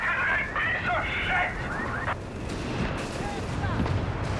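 Scattered gunfire and distant battle bursts from a Company of Heroes 3 match run through the whole span while a commentator talks over them.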